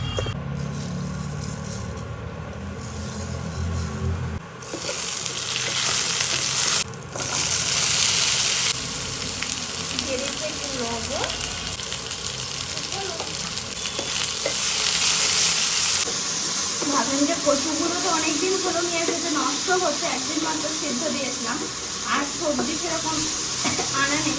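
Dried chilli, bay leaf and cumin are tempered in hot oil for a Bengali vegetable curry with mung dal, giving a bright hiss and crackle. The sizzling surges and settles with stirring, and a voice speaks over it at times.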